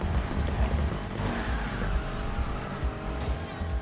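A Ford Mustang in Need for Speed Heat races along with a loud, revving engine and brief tire squeals, the engine note rising and falling in a steady, busy stream of racing sound.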